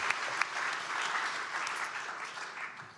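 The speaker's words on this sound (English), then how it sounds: "Give yourself a round of applause." An audience at a peace gathering of bereaved Israelis and Palestinians claps, a dense, sustained wash of applause from a large crowd that holds steady for several seconds and then begins to fade.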